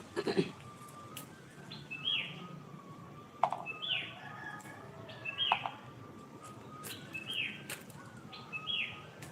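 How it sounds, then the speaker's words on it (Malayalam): Short whistled bird chirps repeat every second or two outdoors, fairly faint, over a low background hum with a few clicks. "ഇവിടെ കിളികൾ കിളിയുടെ സൗണ്ട് കേൾക്കുന്നുണ്ട്"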